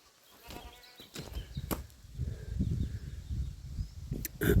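Goats bleat a few times nearby amid rustling and shuffling, the calls short and scattered over low outdoor noise.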